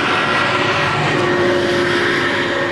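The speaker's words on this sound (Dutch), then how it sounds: "Weer een vliegtuig." A fixed-wing propeller airplane passes overhead, a steady loud engine drone with a broad rumbling hum that holds throughout, no voices present.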